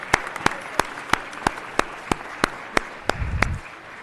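Sparse, evenly spaced claps from a small audience at a city council meeting, about a dozen sharp individual hand claps in a slow rhythm, with a brief murmur of voices near the end.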